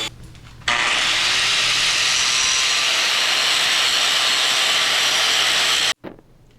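An angle grinder cuts steadily into a cracked canister damascus steel billet, a loud, sustained abrasive whine that holds for about five seconds before stopping abruptly, with brief quieter handling noise at either end.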